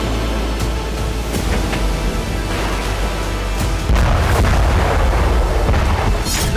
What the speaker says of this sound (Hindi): मेदवेदेव के सामने surface to surface, surface to air tactical missile का टेस्ट किया गया